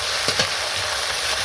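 Ginger-garlic and green chilli pastes fried in hot oil give a continuous close sizzle, with a couple of quick stirring strokes near the start.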